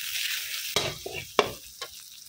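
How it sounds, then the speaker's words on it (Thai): Garlic and roasted Thai curry paste are stir-fried in a pan: several sharp spatula scrapes and strokes over a crackling sizzle, close and clear with no talking. "พอกระเทียมสุกหอมได้ที่นะคะเราค่อยใส่พริกแกงคั่วลงไปผัดค่ะ"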